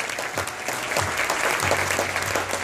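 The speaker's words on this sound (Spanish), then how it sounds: "por favor que le den un fuerte aplauso" Strong, dense applause from a big crowd at a sales workshop event, many hands clapping together in a loud, unbroken burst with faint voices underneath.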